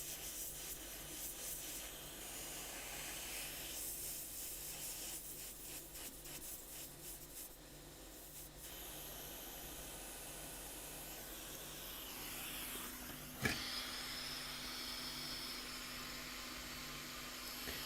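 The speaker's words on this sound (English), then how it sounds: "The hot air really cleans the stencil nicely." A hot air blower hisses steadily while cleaning a solder stencil, a broad airy rush with a faint low hum beneath, shifting in tone partway through, with one sharp click near the end.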